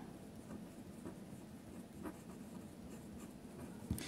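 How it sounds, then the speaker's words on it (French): A pen writing a name on an item, producing faint scratchy strokes against steady low background noise, with a brief sharper tap near the end. "on va écrire Bélouchette"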